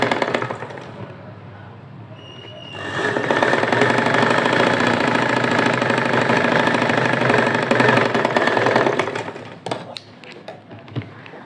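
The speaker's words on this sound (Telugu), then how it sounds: "ఇలా పెట్టుకొని ఇటు సైడ్ స్టిచ్చింగ్ అనేది చేసుకోవాలి" A sewing machine runs in a steady mechanical drone for several seconds while stitching fabric bow hands, starting after a quieter lead-in and stopping near the end, close and loud.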